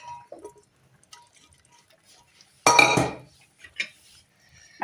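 Cooked chickpeas are stirred into masala in a pan. Mostly quiet with faint clinks, then one loud scraping, clattering burst of a spoon against the pan and a few softer taps after, close by and without speech.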